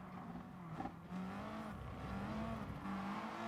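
Race cars in Gran Turismo Sport, an Aston Martin running just ahead, engines droning and shifting pitch as they rev through gears, steady and fairly close with a brief tire-squeal burst near the start.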